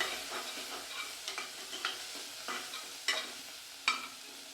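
Mushroom biryani ingredients sautéing in a pan, a steady sizzle with repeated scraping stir strokes and a few sharper clinks, close and alone with no talking.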